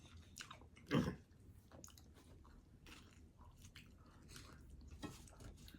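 Close-up chewing and biting of a hamburger, wet squishy mouth sounds with a loud bite early on and softer crunching and smacking continuing, no talk.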